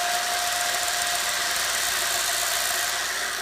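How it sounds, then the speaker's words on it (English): An angle grinder dulling the sharp edge of a stainless steel turbo inlet pipe, a steady loud close whine and hiss running continuously without pause and without speech. "And I know this is stainless, not aluminum, so it's not gonna screw up my grinder."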